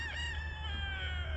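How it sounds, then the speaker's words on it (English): A rooster crows once in the background on a sunny, cold homestead morning, a faint, drawn-out call that falls slightly in pitch. "you can hear the rooster in the background"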